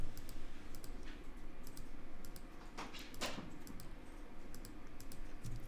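Faint computer keyboard key presses and mouse clicks while working in Adobe Photoshop, a few soft scattered clicks over a quiet room hum.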